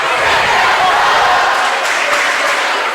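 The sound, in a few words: rival fans chanting in a gym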